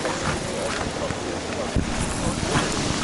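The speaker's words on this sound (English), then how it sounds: "let's get in out of the wind a little bit" Steady wind buffeting a microphone outdoors, a continuous broad rumbling roar with one brief gust thump, while voices talk faintly beneath it.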